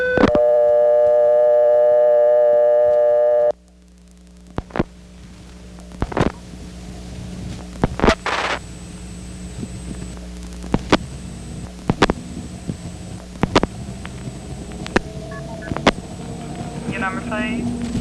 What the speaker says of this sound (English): listen for the ANI sending key pulse 1 start